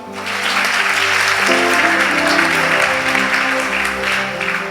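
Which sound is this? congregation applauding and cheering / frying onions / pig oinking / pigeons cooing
congregation applauding and cheering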